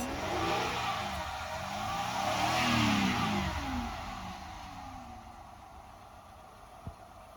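A Ford Fusion engine runs steadily after a troubled start, its idle swelling and easing with a low drone, a short sharp knock near the end and no one talking.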